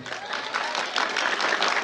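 Audience applause at a motivational talk, a steady, dense burst of many hands clapping that fills the whole moment without pause.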